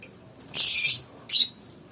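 Pet birds chirp in high, bright bursts, a few short calls followed by two longer dense chirping bouts, fairly close and with no talking over them.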